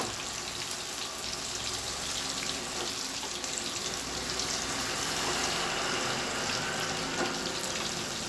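Chilli chicken 65 frying in hot oil at home, a steady, soft, even sizzle and crackle throughout with no talking.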